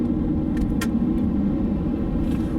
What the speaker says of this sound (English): So I'm coming to this corner. I'm going to downshift.